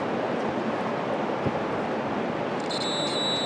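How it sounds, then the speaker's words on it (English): A continuity tester beeps while a Packard Straight 8 distributor is turned outdoors, steady wind rushing throughout and a thin, high continuous tone sounding only in the last second. "I don't know if you can hear that beeping,"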